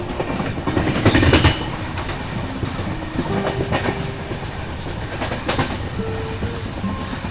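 The Mumbai-Hapa Duronto Express runs on rails with a steady rumbling roar and rhythmic clickety-clack, heard close from on board with a few brief squeals and tonal whines over it.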